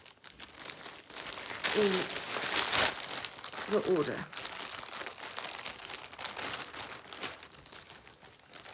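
A crinkling plastic packet, a zipperless Ziploc-style bag, being emptied; two bursts of loud crackling rustle near the mic, then lighter crinkles, with a voice speaking briefly.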